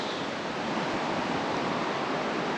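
River water rushing steadily beside a camp in the Bighorn Mountains, a dense, even broadband wash of flowing water, close and constant with no voices.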